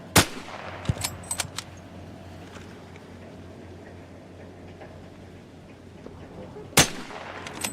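Gunshots during a video game raid: a sharp loud shot at the start, a few scattered cracks around one to one and a half seconds, then a heavy blast near the end, over a low steady hum.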